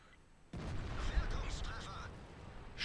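A sudden heavy tank cannon shot in World of Tanks firing at an IS-7, a sharp boom followed by a rumbling, sustained roar that slowly fades, with a voice talking faintly over it.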